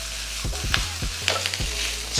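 Short rib with green and white onions sizzles in hot oil as it is tossed and stirred. A steady frying hiss runs under several clanks and scrapes from the pan.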